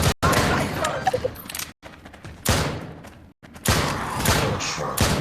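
Loud close gunshots in the VR shooter Drop Dead: Dual Strike, several sharp blasts separated by brief silences, with game sounds throughout.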